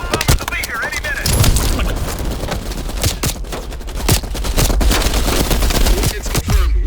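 Sustained automatic gunfire from a machine gun in the video game Call of Duty Black Ops Cold War, dense rapid bursts layered over battle noise and game voices throughout.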